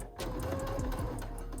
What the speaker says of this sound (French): maintenant je vais faire la couture tout autour